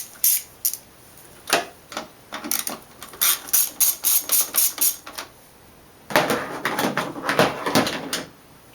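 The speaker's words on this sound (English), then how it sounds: "So one last thing I'll do is remove the alternator cooling duct." A ratchet clicks in quick bursts while removing the alternator cooling duct on a BMW E36, close and crisp, with rapid runs of clicks, short pauses, and a longer fast burst near the end.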